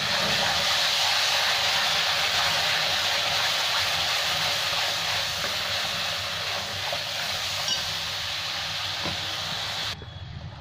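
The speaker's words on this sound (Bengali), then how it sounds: "এবার আমি এই টমেটো পিউরিটা দিয়ে দিচ্ছি।" Tomato puree poured into hot oil already holding cumin and coriander powder, giving a steady, loud broadband sizzle with hiss that holds throughout and drops off sharply near the end.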